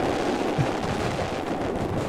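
Fireworks launching in the game Fireworks Simulator, a dense, continuous barrage of booming bursts and rumbling blasts that stays loud and steady throughout, with no talking.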